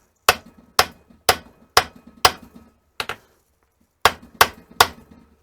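Sharp metal hammer taps on a 1971 Honda CB350 motorcycle engine, eight distinct strikes at a steady rhythm, each with a brief ringing decay, close and fairly loud with no talking.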